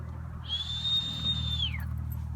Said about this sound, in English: I whistle, tell them to come.